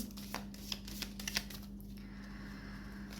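Tarot cards being shuffled and drawn during a reading; a few quiet, close riffling clicks and light flicks in the first half, then a soft hum, with no talk.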